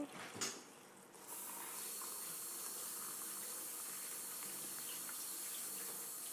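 Hot water pours steadily into a teapot over mint and sugar, a soft, continuous hiss and splash that starts after a couple of brief clinks and holds evenly to the end.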